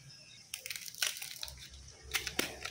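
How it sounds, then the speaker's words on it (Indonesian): Terubuk, a rare sugarcane-flower vegetable, being pulled open by hand: close, crisp crackling and snapping in irregular bursts over a soft steady background, with no talking. "Nah, dengar gak sih suara si sayur terubuk ini nih?"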